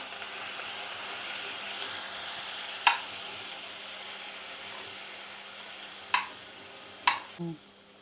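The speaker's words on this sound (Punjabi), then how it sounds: "ਵਾਈਟ ਸੌਸ ਤਿਆਰ ਕਰਨ ਲਈ ਵੀ ਆਪਾਂ ਮੱਖਣ ਲੈ ਲਿਆ ਮੱਖਣ ਗਰਮ ਹੁੰਦਾ" Butter melts in a karahi on a gas stove for white sauce, giving a faint, steady low sizzle broken by a few sharp metallic clinks.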